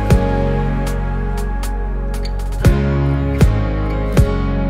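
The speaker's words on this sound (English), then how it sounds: "These synths come back in, and then there's this new synth as a layer." Produced song section of layered synths and guitars, a dense sustained harmonic bed with repeated punchy low drum hits and sharp bright accents, loud and upfront with no talking.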